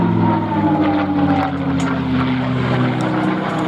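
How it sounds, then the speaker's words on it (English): A Rolls-Royce powered P-51D Mustang propeller plane drones loudly and steadily overhead during an air festival display flypast, its engine tone sliding slightly as it passes. "Now this could be the last fly past, so cameras ready for these last views of this beautiful, beautiful aircraft."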